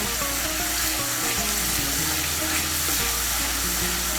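Ground paste of four or five green chilies sizzles steadily in hot oil for a cauliflower curry, a dense close frying hiss with stirring underneath, with no voices.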